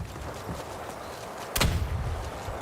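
An explosion and gunfire in a video game, a sharp loud blast about halfway through, with a low rumbling tail, over steady background game noise.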